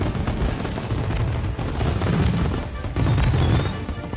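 Dense, continuous bursts of gunfire and booming blasts from the video game Mafia: Definitive Edition roll on without pause, loud and unbroken for a few seconds.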